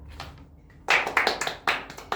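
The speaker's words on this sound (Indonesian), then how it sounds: "Kasih tepuk tangan dulu untuk Ria" A small group of students in a classroom gives a short burst of scattered hand claps, a few quiet taps first and then several sharp, irregular claps close by.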